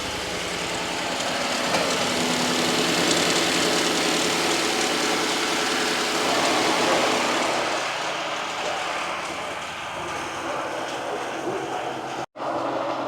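A 2012 Ford F150 with the 5.0 engine, fresh from an injector O-ring replacement and cranked to life, runs in a steady close-up idle with a dense, even mechanical drone before a brief cutout near the end.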